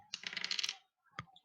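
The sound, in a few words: dice rolling on table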